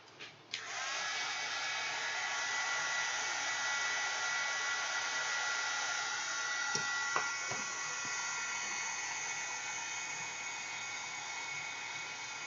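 A hair dryer blows continuously on a freshly coloured journal page, a steady loud whirring hiss after a couple of brief clicks at the start, with a few faint taps partway through.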